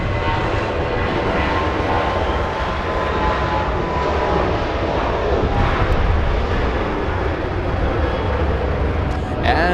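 WestJet and SkyWest airliners arrive at Los Angeles International Airport with a loud, unbroken engine roar and deep rumble that stays steady throughout, without a clear break between aircraft.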